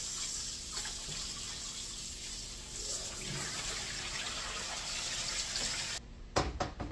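Tap water runs steadily into a sink while dishes are washed, a faint continuous hiss that ends with a few sharp clatters.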